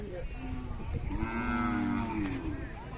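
A Khillar bullock at the Umadi fair cattle market in Jat gives one long, drawn-out moo that swells and then fades, set against a busy crowd murmur.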